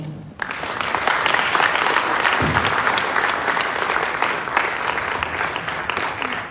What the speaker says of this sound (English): Keep clapping for Madam Georgia Wallen.